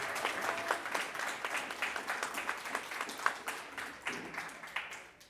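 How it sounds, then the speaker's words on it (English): An audience at a primary school speech contest gives the learners a round of applause, many hands clapping in a steady, moderately distant patter with light pulses that slowly fades out. "Well done to all our learners in Division 2. A round of applause, please."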